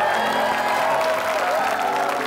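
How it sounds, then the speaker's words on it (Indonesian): Brief burst of studio audience applause on an Indonesian dating game show, clapping mixed with a few cheers and whoops under lively room tone. "Oke, tepuk tangan semua boleh."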